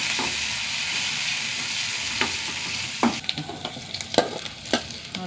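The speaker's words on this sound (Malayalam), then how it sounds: "5-6 ചെറിയ ഉള്ളി കേട്ടോ. ഉള്ളി നന്നായി മൂത്ത് വരട്ടെ." Small onions and curry leaves fry in hot oil for a bitter gourd curry, a steady close sizzle with intermittent scraping taps of a spoon stirring the pan, no voices.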